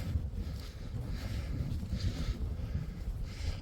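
Wind blowing across an exposed hilltop above Kendal, a steady low buffeting rumble on the microphone with gusts swelling and fading, close and fairly loud, with no one talking.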